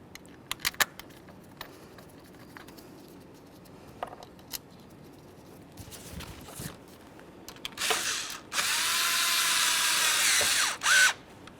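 Power tool driving and snugging the three engine cover mounting bolts on a 2012-2018 Nissan Altima 2.5L after an intake manifold replacement; scattered clicks and clatter, then one loud sustained whir of about three seconds, close up.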